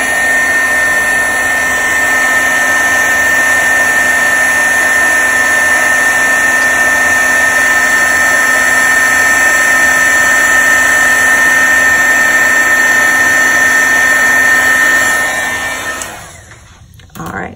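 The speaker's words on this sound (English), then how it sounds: "now we are ready to heat emboss and finish the inside of the card" A heat gun runs loudly and continuously while heat embossing a Christmas card, a steady blowing whir with a high tonal whine that holds for around fifteen seconds before cutting off abruptly at the end.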